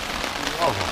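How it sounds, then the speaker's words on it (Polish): Heavy rain pours down during a cycling trip, a dense steady hiss of drops on surfaces filling the brief moment. "Leje. Nie ma lać."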